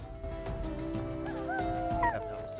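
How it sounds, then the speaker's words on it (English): A dog in a video game whimpers and yips over a steady electronic tone, with short rising whines near the middle and end, moderately faint. "That is a dog."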